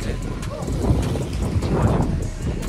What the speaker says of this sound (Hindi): जो हवा चल रहा है ना